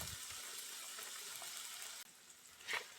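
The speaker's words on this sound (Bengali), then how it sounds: "উল্টাপাল্টা করে এগুলোকে ভেজে নিতে হবে যেন সুন্দর মতো সেদ্ধ হয়" Vegetables fry in a pan for Bangladeshi bhorta, giving a steady soft sizzle that drops off sharply partway through, followed by a faint rustle.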